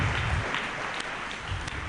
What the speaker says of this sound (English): So encourage her with a clap.